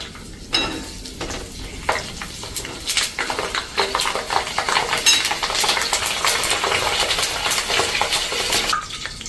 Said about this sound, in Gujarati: હવે આપણે આ જે ચાપડી તળી હતી ને એ જ ગરમ તેલમાં આપણે મરચાંને તરી લેશું.